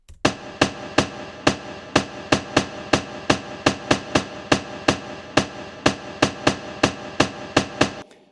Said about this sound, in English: Then this is a snare.